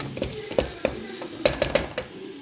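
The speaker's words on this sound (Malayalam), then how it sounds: "ഇതങ്ങ് വഴറ്റി കൊടുക്കാം ഈ തക്കാളി ഒന്ന് അങ്ങ് വഴരട്ടെ" Tomatoes sauté in a pan for egg biryani in a pressure cooker, with a spoon scraping and clinking against the metal in a few irregular close strokes over a low sizzle.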